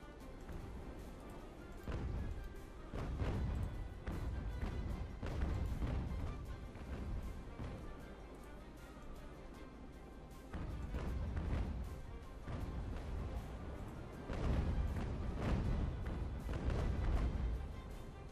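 Distant sailing-ship cannon fire in Ultimate Admiral: Age of Sail, heavy low booms rolling out irregularly at long range, faint and muffled under a continuous rumble of sea and battle ambience.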